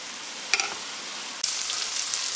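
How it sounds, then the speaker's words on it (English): Bacon sizzles and spatters steadily in a hot pan for a bacon cheeseburger casserole, a constant close hiss with a couple of brief clatters from stirring or handling. "You'll see while it's frying."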